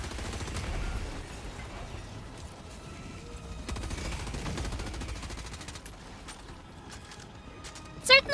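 Automatic weapons rattle off in Helldivers 2, quick bursts of rapid gunfire at moderate distance, fairly quiet overall with a sharper burst near the end.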